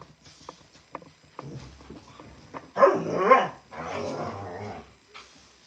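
A pet dog barks, yips and growls in irregular bursts, with a louder stretch of barking and whimpering in the middle, close and clear with no talk.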